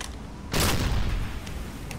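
A U-boat deck gun fires at a ship in Silent Hunter III, one loud close blast after a brief lull, then a rumbling decay with faint distant clanks.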